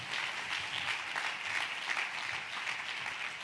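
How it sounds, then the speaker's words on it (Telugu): An audience gives sustained applause, a steady, even wash of many hands clapping that fills the whole moment at moderate volume without any talking. "కొట్టు చప్పట్లు గట్టిగా."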